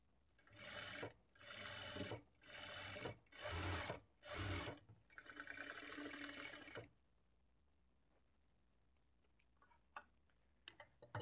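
A sewing machine stitches a double-folded blouse hook strip in five short, evenly spaced bursts, then one longer run, before falling quiet apart from a few faint clicks.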